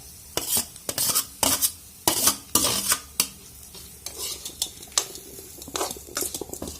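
A spoon scrapes and stirs through rice in a pan, making repeated bursts of scraping and clinking with a soft sizzle underneath, close by.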